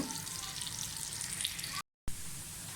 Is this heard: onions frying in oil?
yes